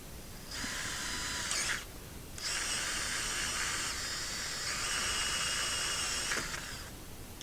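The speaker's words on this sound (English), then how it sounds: "Now we'll drill the other 2." A power drill whines steadily at high speed, with a short pause and restart partway through, then winds down near the end, drilling mounting holes for nerf bars on a Ranger XP1000.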